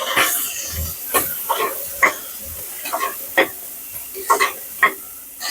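Onion fries in hot oil with cumin, garlic, curry leaves and green chillies for a lentil dal, giving a soft sizzle broken by repeated scraping and stirring strokes at an uneven pace, close by, with no talk.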